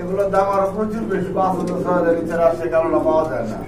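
Jalsa-eyed pigeons coo in pairs at a pigeon market, their soft calls running beneath steady nearby talk and haggling.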